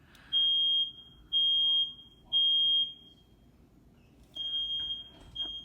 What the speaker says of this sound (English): my smoke alarm went off